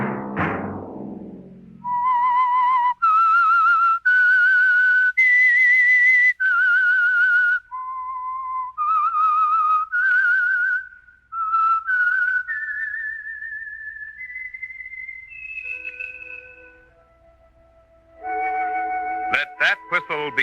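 A lone whistler performs the eerie theme melody of the radio drama The Whistler, a long sustained tune that starts with a falling swoop, steps through held notes and ends on a tremolo flourish, clear and up close.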